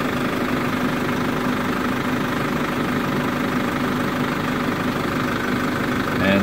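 A 2012 Holden Cruze turbo diesel idles steadily, a dense, even rumble with a slight knocking clatter, close and constant throughout with no voices.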